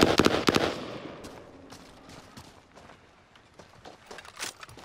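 Enemy gunfire in the video game Warzone, with a quick cluster of sharp shots at the start, then scattered fainter pops and cracks trailing off, and a late burst near the end.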